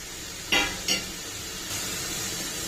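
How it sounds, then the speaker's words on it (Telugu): Soya chunks (meal maker) fry in hot oil for a Manchurian snack. Two sharp utensil clatters against the pan ring out near the start, then a steady close sizzle continues. "చూడండి, ఇవి వేగిపోయాయండి. అయినా ఇంకొంచెం వేగాలండి."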